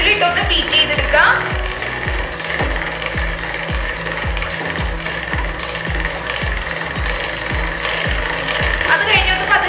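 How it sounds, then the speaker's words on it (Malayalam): An electric beater whipping chocolate truffle cake batter for a Barbie cake runs loud and close, its motor whirring with a fast, steady rattling pulse as the beaters clatter against the bowl. "നമ്മുടെ ബീറ്റർ വെച്ച് ഒന്ന് ബീറ്റ് ചെയ്തെടുക്കാം."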